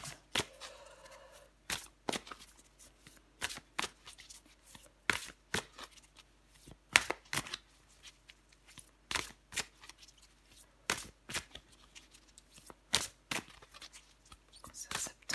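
A deck of tarot cards shuffled by hand, heard as repeated sharp riffling bursts and snaps spread irregularly across a quiet, close background, with no talking.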